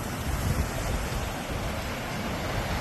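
Rough lake waves surge steadily against the shore at the Pointe Aux Barques lighthouse, a loud continuous wash of surf with wind buffeting the microphone throughout.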